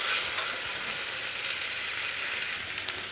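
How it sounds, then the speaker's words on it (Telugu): Chopped tomato pieces hiss in a hot pan of fenugreek-leaf dal seasoning. The sizzle is loud, broad and continuous, close by, with a couple of sharp spoon clicks near the end. "మనము ఈ టొమాటో ముక్కల్ని ఇందులో వేసేసుకోవాలి. వేసుకొని ఒకసారి మంచిగా కలుపుకోవాలి."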